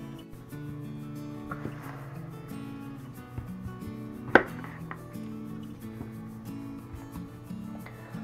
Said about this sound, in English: we're going to cut up cucumber, cut up some tomato